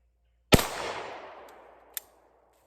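A handgun fires a single sharp, loud report that decays over about a second and a half, then a fainter second crack follows near the end.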